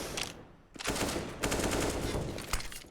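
Machine gun spray in CS:GO at DreamHack Masters Spring 2021 fires in rapid dense bursts, loud and close, with a short gap before a continuous volley.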